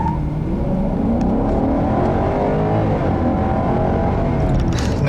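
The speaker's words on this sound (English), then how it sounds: "let's get on the gas here and see how she does" 2015 Kia K900 with a 420-horsepower V8 and 8-speed automatic accelerating hard, a steady loud engine roar building from inside the cabin without a break.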